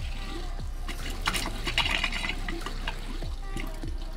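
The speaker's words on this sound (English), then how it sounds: "So this is just water coming out, of course, and some air." Water gurgles and splashes from an open pop-up camper drain during winterization, sputtering with bursts of air in an uneven, continuous flow.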